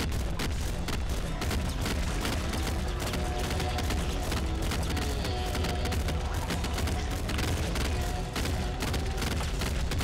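Heavy assault rifle fire in the top-down shooter Nuclear Throne during a boss fight: dense, continuous automatic bursts mixed with booming impacts and explosions, loud and unbroken for the whole stretch.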